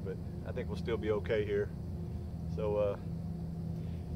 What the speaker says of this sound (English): But you can probably hear the factory in the background.